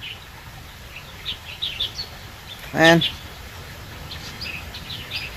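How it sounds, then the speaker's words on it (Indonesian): Small birds chirp faintly outdoors while bathing, with scattered high tweets in the background and a single voice breaking in briefly partway through. "Di sini banyak banget suara kicauan burung."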